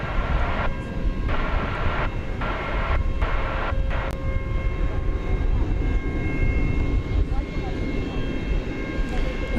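An American Airlines Airbus A321 from Ontario, California arrives at DFW Airport at night, a steady, fairly loud jet roar running throughout with a sustained tone, while a voice speaks over it.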